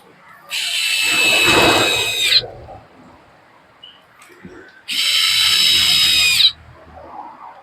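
A 7.2 V electric pen screwdriver whines in two bursts of about two seconds each while tightening a screw, close and fairly loud, with quiet handling noise between the runs.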